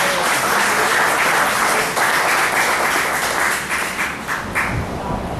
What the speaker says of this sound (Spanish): ¿Cuánto puede dar un aplauso fuerte a Jesús?